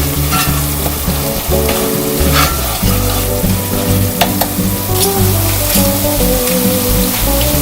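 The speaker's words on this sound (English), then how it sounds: "I'm going to let it fry." Carrot jollof rice base frying in a pot just after a quick stir, giving a loud, steady sizzle and crackle that runs without a break and with no talking.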